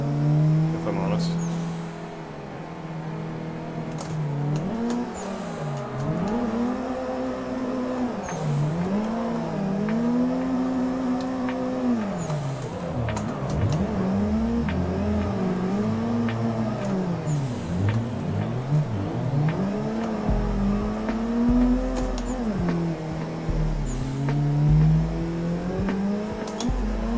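A drift car on the Drift Playground track revs hard and slides over a hill. The engine note rises and falls repeatedly, with tyre screeching and a rougher rumble near the end.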